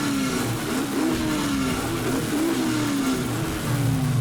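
A muscle car hot rod engine idles and revs nearby in repeated rising and falling pulls, a loud rumbling tone climbing and dropping several times without pause.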